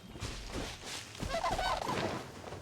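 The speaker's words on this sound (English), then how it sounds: "Oh, there's bird." A warbling, gobbling bird call from the video game Genshin Impact, set in the world of Teyvat, rises for about a second mid-clip over a steady bed of game ambience and music.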